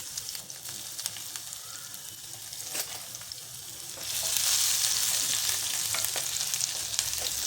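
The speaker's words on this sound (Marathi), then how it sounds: "तेल तापलं त्यामध्ये घालायचं आहे बारीक कापलेलं लसूण" Finely chopped garlic sizzling in hot oil in a pan for momo chutney, a steady close crackle that jumps louder and brighter midway as the garlic hits the oil, with occasional stirring scrapes.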